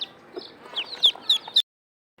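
A hen clucks in a series of short, sharp calls rising in quick succession, fairly close, then stops abruptly into silence before a brief final sound.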